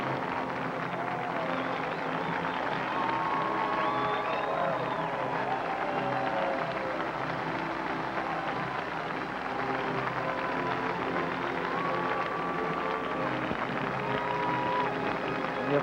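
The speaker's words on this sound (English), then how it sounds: "The applause hasn't stopped for those 3 athletes," The stadium crowd at the 1984 Los Angeles Olympics keeps applauding three marathon runners, a continuous distant roar of clapping and cheering under occasional faint voices.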